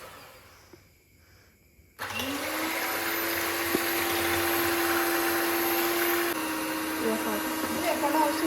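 An electric mixer beats batter for a homemade New Year cake, starting abruptly with a steady, close motor whine that holds, then drops slightly in pitch near the end.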